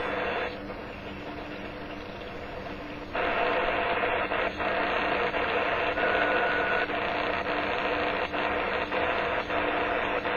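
A SEMIER AM/FM/SW/MP3 radio being tuned gives off steady hiss and static with a short muting beep tone partway through. The noise grows louder and fuller after a few seconds, and no one speaks.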